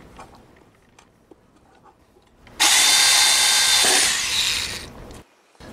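A power drill bores a pilot hole into a wooden breadboard, one loud sustained whine of about two and a half seconds that tapers off, preceded by quiet handling noises.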